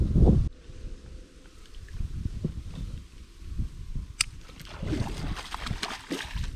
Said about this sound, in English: beautiful evening, a little bit windy.